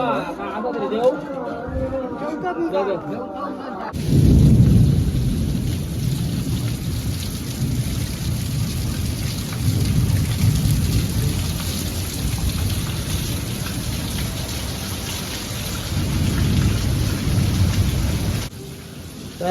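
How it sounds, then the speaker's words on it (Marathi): Heavy rain pours down steadily with rolling thunder during a monsoon in the Konkan, close and loud. It follows a brief burst of music at the start, and voices can be heard faintly in the background. "एवढं धमाकेदार पाऊस चालू झालो"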